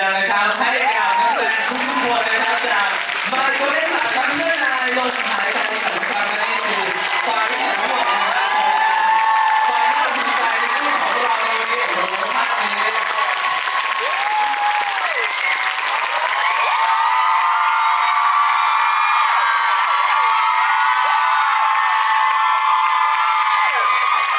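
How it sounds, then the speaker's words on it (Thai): A large crowd of fans claps and cheers loudly and continuously, with whoops and shouts rising over steady applause, and talk heard faintly beneath at times. "ปรบมือ"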